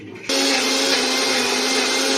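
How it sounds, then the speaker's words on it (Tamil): A mixer grinder switches on sharply and whirs steadily at high speed while grinding spinach greens with curry leaves, a loud, close, continuous motor whine. "இப்போ அரைச்சிட்டு வந்துடுவேன்"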